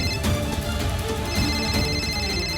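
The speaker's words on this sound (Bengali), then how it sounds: "মামার ফোন এখানেই কোথাও বাজছিল কি?" A mobile phone ringtone plays a steady, repeating electronic melody of bright tonal pulses at moderate loudness, with no talking over it.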